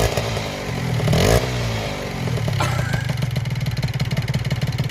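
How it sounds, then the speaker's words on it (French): A Peugeot 103 moped engine, built as a hybrid SPX, revs loudly nearby with rising and falling pitch and a clattering, pulsing idle between throttle blips. "Ça fait un bruit de scooter."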